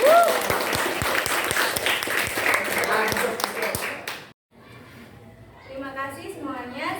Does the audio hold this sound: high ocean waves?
no